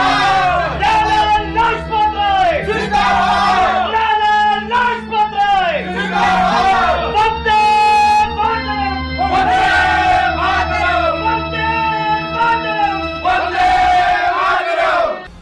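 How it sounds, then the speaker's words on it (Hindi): A stage play's crowd scene erupts as police beat Lala ji, with loud overlapping shouting and yelling voices over music throughout. "लाला जी भीड़ में फंस गए, पुलिस उन्हें बेरहमी से मार रही है।"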